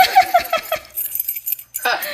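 House keys jangle in a brief metallic burst near the start, overlapping with talk; a few people talk over the clinking and a new set of keys is being handed over.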